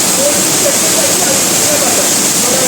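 A steady, loud roar of the Somtirth waterfall at Nivendi, Ratnagiri, fills the whole clip, dense rushing water with no pauses.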